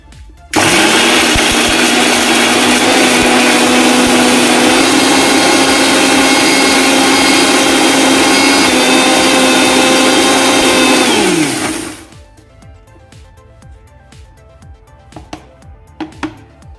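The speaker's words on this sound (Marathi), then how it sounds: "तो मी मिक्सरच्या भांड्यामध्ये ट्रान्सफर करून घेतलेला आहे. आता तो मी वाटून घेते पहिल्यांदा." A mixer grinder jar blends cooled spice masala for a soya chunks curry, with a loud, steady motor whine and grinding roar that runs for about eleven seconds before winding down and stopping.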